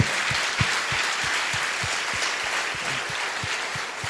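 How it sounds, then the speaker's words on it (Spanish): A church congregation applauds the Lord in a sustained wash of clapping, with a low rhythmic thump pulsing about three times a second underneath, loud and continuous, with no speech. "dale un fuerte aplauso al Señor"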